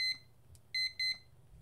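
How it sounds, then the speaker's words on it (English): Three sharp, high electronic double-beeps from an electric kettle ring out against a quiet background, the first alone and the next two close together. "I'm woken up by the beeps of an electric kettle."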